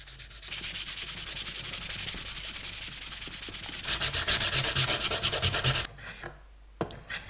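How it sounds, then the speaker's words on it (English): An octagon-shaped wooden box is sanded with steady, rapid rubbing strokes that run continuously and loudly, growing coarser midway before stopping, followed by a brief clunk. "And more sanding."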